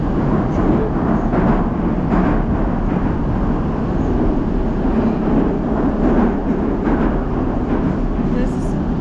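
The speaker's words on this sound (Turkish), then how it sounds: "Şu anda biz kırmızı metroyu kullanıyoruz." Steady loud rumble and rattling of a St. Petersburg red-line metro train in motion, continuous roar filling the whole stretch with faint voices underneath.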